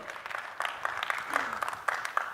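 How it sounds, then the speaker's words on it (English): Audience at a tech conference keynote clapping, a loose patter of scattered hand claps at moderate distance, fairly thin and uneven rather than a full roar, with a voice briefly audible underneath. "I planted people in the audience to start that applause"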